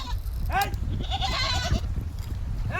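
Goat bleating in repeated wavering cries during washing in a pond, the calls near and clear over a noisy outdoor background with little talk.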